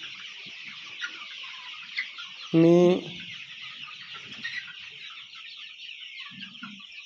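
Desi country chickens cluck and chatter on a poultry farm of about 3,500 birds, a dense constant chorus with one loud nearby squawk standing out, under a man's brief speech.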